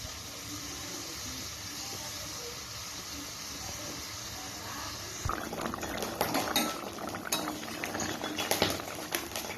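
Fish simmers in a Bengali potato fish curry with a steady bubbling hiss, then clatters and sizzles sharply join in as the pot is stirred and handled.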